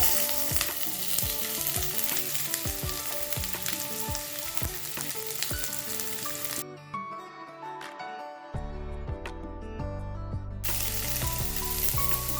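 Green chillies and chopped onion frying in a pan for paneer butter masala, a steady loud sizzle with stirring scrapes throughout, briefly dropping quieter partway before the hiss returns at full strength.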